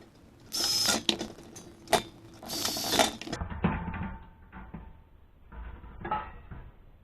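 A power drill drives screws through the sheet-metal tin of a firestop kit in two loud, whirring bursts, followed by quieter clinks and handling noises close by.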